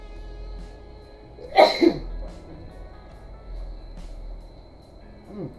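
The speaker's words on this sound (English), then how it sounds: "I have got to sneeze" A single loud sneeze up close, a sharp burst with a quick second catch, then quiet room tone with faint background noise.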